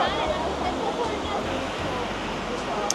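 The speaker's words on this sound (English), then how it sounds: "And over here you can already see the waterfall." Giessbach waterfall near Lake Brienz in Switzerland, a steady broadband roar of falling water heard continuously and fairly close, with a faint murmur of people in the background.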